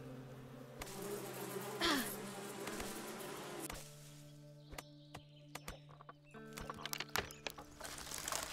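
Bees buzz in the video game Above Snakes, a steady insect drone over a layered game ambience with soft clip-clop and other scattered sound effects.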